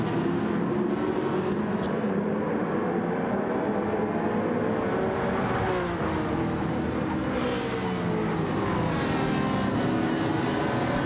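Racing cars in a touring-car video game race roar together in a dense, steady engine drone, a pack of cars passing close and continuous with no talk.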